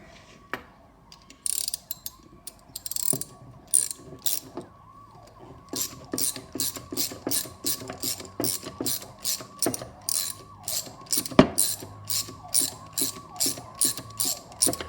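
Ratcheting clicks from tightening the pivot on old tin snips, a steady run of sharp mechanical ticks in quick regular bursts, close up with no talk.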